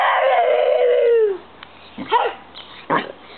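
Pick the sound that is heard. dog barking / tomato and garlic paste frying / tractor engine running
dog barking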